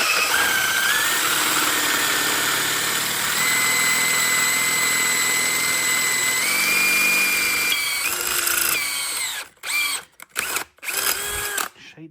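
A loud power drill whines steadily as it bores through metal with worn drill bits while building an engine, pitch shifting slightly, then stops and restarts in several short bursts.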